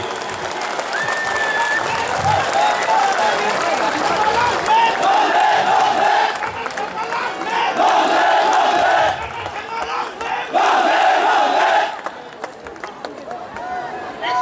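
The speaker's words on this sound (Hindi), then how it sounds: "तालियों की गर्जाहट होनी चाहिए।" Large rally crowd roaring with applause and cheers for a political leader on stage, loud and sustained with surging shouts and whistles, dipping briefly before swelling again.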